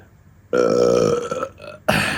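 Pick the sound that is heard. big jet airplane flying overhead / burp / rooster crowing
burp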